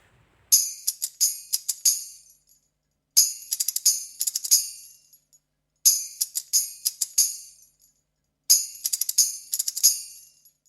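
A tambourine is shaken in four separate bursts, each a quick flurry of bright metallic jingles followed by a short pause.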